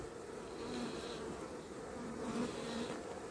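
A soft, continuous hum of honeybees fills the air at an opened hive, a steady, faint buzzing with no voices over it.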